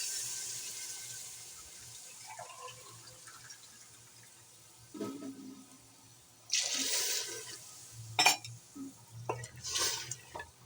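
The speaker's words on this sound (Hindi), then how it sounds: "अब हम इसमें 2 गिलास पानी डालकर गलने के लिए रख देंगे" Water pours into a cooking pot of nehari in a few splashy bursts, separated by quieter moments with light clinks and movement.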